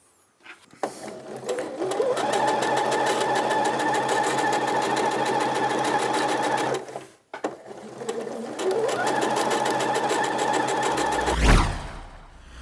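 A sewing machine stitches a line one centimetre from the hem edge of an A-line skirt, running in two long, steady, rapid bursts of close, loud, rhythmic needle clatter separated by a brief pause.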